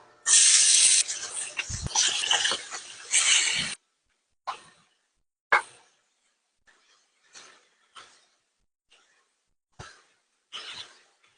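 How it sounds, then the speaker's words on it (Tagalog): Pork hits used oil with bell pepper in a kaldera, giving a loud hissing sizzle for several seconds, then quieter short bursts of spitting and crackling at irregular intervals. "Pwede na natin ilagay ang ating baboy gamit ang used oil."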